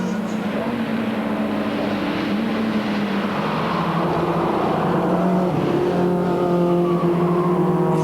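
BMW, Audi and Opel touring cars racing through the night at the 1995 Spa 24 Hours in the Ardennes, a steady blend of engine drone with notes rising and overlapping at a moderate distance.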